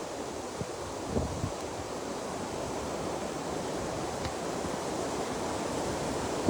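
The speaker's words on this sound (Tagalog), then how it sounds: "mahangin, against talaga" Steady, broad wind rushes and buffets across the microphone throughout, loud and continuous with occasional soft bumps, no voices.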